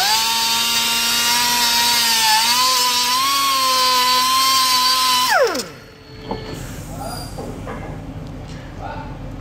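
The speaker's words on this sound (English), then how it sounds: "This is the engine block. I'm gonna grind it down." Power grinder grinding down the engine block of a modified Subaru Impreza WRX, a loud steady whine with a rising pitch that winds down sharply after about five seconds, leaving lower workshop clatter.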